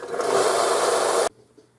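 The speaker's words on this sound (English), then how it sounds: "freshly thinned out using the belt sander, tabletop belt sander" Tabletop belt sander thinning down a Smith & Wesson revolver rebound spring, a loud steady grinding whir that runs about 1.3 seconds, then cuts off abruptly into quiet room tone.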